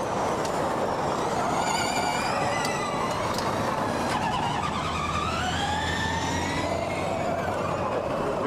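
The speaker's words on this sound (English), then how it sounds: "Through the hairpin comes the race leader, Jean-Eric Verne." Formula E electric race cars at the hairpin of the 2018 New York City E-Prix street circuit: a steady high electric whine rising and falling in pitch as cars pass, over a constant crowd and track rumble, with no talking.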